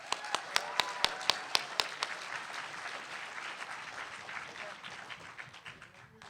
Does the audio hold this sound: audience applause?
yes